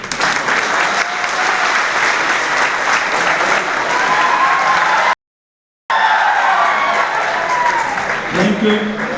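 A crowd at an award and felicitation ceremony breaks into loud, sustained applause, dense clapping filling the whole clip apart from a brief dead-silent cut near the middle.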